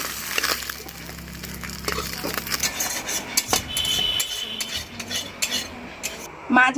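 Fried puti fish being lifted from a kadai with a metal utensil, a quick run of clinks, scrapes and taps against the pan over a fading sizzle, ending in a louder knock.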